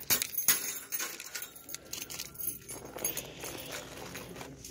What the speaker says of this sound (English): Drop my keys there.